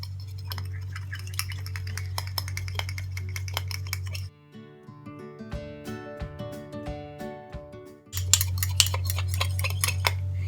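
Egg yolk, olive oil and honey mixed in a bowl for a face mask, heard as close, repeated clinks and scrapes of a utensil against the bowl, with a steady low hum underneath and a quieter stretch in the middle.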